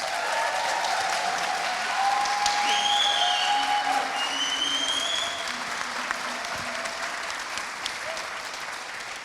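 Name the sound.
audience applause after a performance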